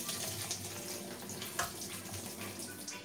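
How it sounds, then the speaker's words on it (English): Green water from blanched herbs pours through a colander into a kitchen sink, a steady close splashing rush with faint drips over continuous flow. "So you can see I'm going to drain that in my sink."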